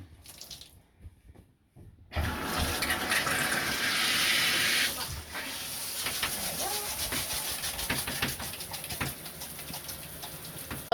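Water runs and splashes steadily in a bathtub while pin sites on a healing ankle in an external fixator are washed with gauze, loud and continuous after a brief quieter start.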